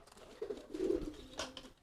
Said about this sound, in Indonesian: Ini merpati balap.